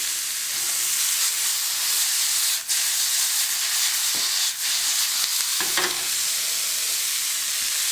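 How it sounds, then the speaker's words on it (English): Meat sears in a hot pan for a gyro, a steady loud hissing sizzle that runs continuously, with a few brief clicks and stirring touches. "you should see a smoke coming off of that, because that's the searing of the meat"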